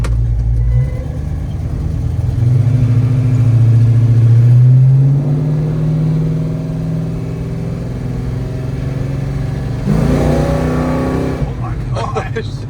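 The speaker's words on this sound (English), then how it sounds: "that's the locker in the rear end making noise" A 1969 Dodge Charger on the road, engine droning and shifting pitch as it accelerates in third gear, with the rear end locker clunking, under people talking inside the car.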